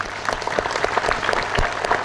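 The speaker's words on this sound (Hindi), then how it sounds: "दूसरा, ताली बजाते रहिएगा" A seminar audience claps steadily for about two seconds, a dense patter of many hands that stays fairly loud and even throughout, with faint voices underneath.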